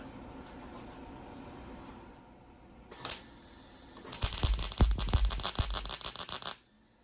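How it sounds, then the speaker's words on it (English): A wire-feed welder crackles and buzzes in a loud, uneven burst for a couple of seconds while grafting a 1963 VW Beetle dash into a 1972 Super Beetle, following quieter shop rustling and a brief scrape. "Okay, time to weld this."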